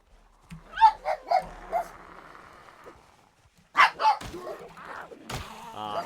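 Several dogs, three Pekingese and a Chihuahua, bark and yip in short bursts nearby, the barks clustering at the start and again toward the end with a quieter stretch between.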